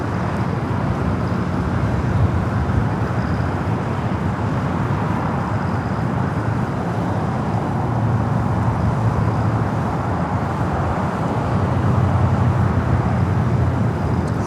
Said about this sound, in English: Speedbird, flight 268, heading back to London Heathrow. We'll have a north side takeoff coming up.